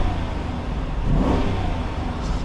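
2024 Dodge Durango R/T engine revs in sport mode while stationary, a brief rising and falling surge capped around 4,000 RPM, heard from inside the cabin with a steady mechanical rumble throughout.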